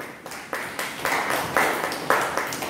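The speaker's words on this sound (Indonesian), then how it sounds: "tepuk tangan BUMD Ponggok" Applause from a seminar audience at a village enterprise workshop, a dense crackle of many hands that swells in several rising bursts, fairly close and steady for a few seconds.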